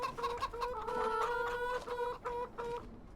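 Chickens clucking in a farming survival video game, a series of short tonal clucks and squawks in quick bursts, fairly quiet and alone with no talk.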